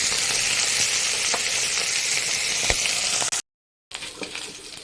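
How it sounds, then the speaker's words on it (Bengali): Fish and bori lentil dumplings fry in hot oil with a loud, dense, continuous sizzle close by, briefly cutting out before resuming a little quieter. "মাছের সঙ্গে আমি কিছুটা বড়িও ভেজে নিলাম"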